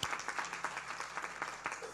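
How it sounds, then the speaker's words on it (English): An audience at a Young Achievers Ministry gathering at Asbury Town Neck claps in a short, faint burst of steady applause, heard from some distance. "Okay, clap it up."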